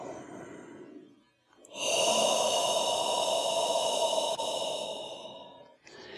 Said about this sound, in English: the ujjayi breath.